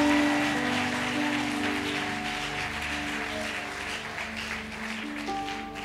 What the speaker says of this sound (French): Acclamons le Seigneur Jésus pour tout.